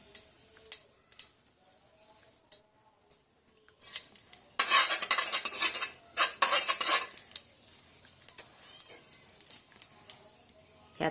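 A spoon stirs and scrapes poppy seeds roasting in a spoonful of ghee in a pan. Sparse metallic taps come first, then a denser burst of sizzling and clattering scrapes, then scattered ticks.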